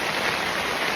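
Rain falls steadily at a Yellowstone campsite, a dense, even hiss that is close and loud from start to finish, alone without talk.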